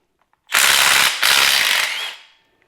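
A ratchet wrench unbolts an engine accessory bracket on a 6.0 LS engine in a C10 squarebody truck, giving two quick, loud bursts of rapid clicking close by, the second trailing off.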